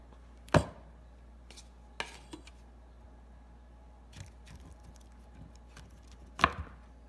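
A knife slices through beef fat tallow on a board, giving a few sharp, sparse cuts and knocks with quiet gaps between them, two strikes standing out louder than the rest.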